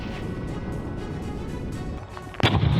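A Russian Ka-52 attack helicopter fires on a command post: a steady loud roar and rumble runs throughout, broken near the end by a sharp, harsh burst of firing that swells louder.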